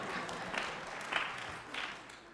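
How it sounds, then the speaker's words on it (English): A church audience gives a round of applause, a soft, distant spread of clapping that swells in a few light surges and stays fairly faint throughout. "Would you give him a big round of applause?"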